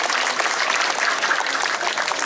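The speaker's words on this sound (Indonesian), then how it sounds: "tepuk tangan untuk ide dani sarang sami" Crowd applause at a Calonarang ritual procession in Bali, a dense, continuous patter of many hands clapping that stays steady throughout.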